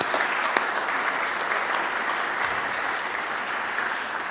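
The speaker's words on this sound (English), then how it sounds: "that deserves another round of applause for the Coles" Steady applause from an audience at the Colburn unveiling event for a performance space fills the room with a dense, even wash of clapping that holds at the same level throughout, with no voices rising above it.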